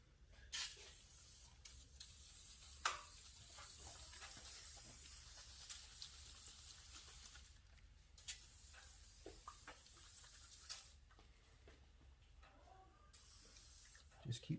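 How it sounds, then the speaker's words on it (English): Close hissing bursts of spray come in short, irregular blasts while detailing the 4.3-liter engine of a 2003 Chevy S10, separated by quieter pauses with faint background noise. "Keep spraying wherever you think you need to put it."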